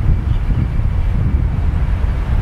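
Wind gusts across a golf course at Dubai Creek, buffeting the microphone as a loud, low, rumbling roar that rises and falls irregularly with no voices.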